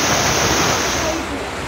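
Floodwater from a cloudburst rushes down the middle of a street in a loud, continuous roar that eases slightly toward the end, with no speech.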